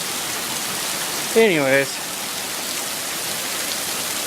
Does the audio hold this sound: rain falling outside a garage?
yes